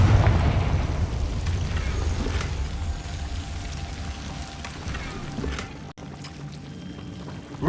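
Confringo, a fiery blast spell, cast in a video game: a loud, rumbling burst of roaring noise that opens strongly and then churns on steadily, broken by a brief dropout near the end.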